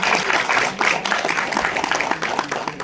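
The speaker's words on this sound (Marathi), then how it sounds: "जोरदार टाळ्या" An audience applauds at a Marathi film event for the movie Aasha, with steady, fairly loud clapping from a modest crowd, no voices over it.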